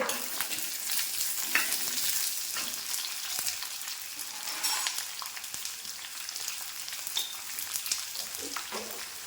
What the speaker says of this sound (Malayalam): നമ്മളൊരു 1/4 സ്പൂൺ ഉപ്പ് ഇട്ട് നമുക്കിതൊന്ന് വഴറ്റിയെടുക്കാമേ